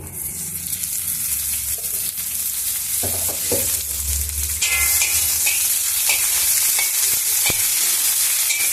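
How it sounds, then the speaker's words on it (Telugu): Red chillies fry in a little oil in a pan, giving a loud, continuous close sizzle with occasional stirring scrapes and soft crackles. "ఇట్లా కొంచెం ఆయిల్ వేసుకున్నాము వేయించుకోవడానికి"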